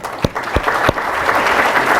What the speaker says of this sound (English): please join me in giving all of our cities applause.